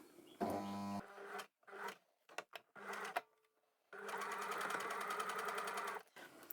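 A domestic sewing machine back stitching at the start of a seam on a sleeve, giving a short rapid whirring burst, several brief stops and starts, then a longer steady run of fast stitching, close by with no talk.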